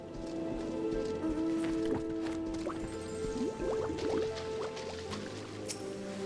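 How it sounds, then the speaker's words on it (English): Bubbling liquid in the video game Final Fantasy XIV: a run of soft gurgling blips and drips rising over a steady humming ambient background, with no voices. "There's a lot of bubbling."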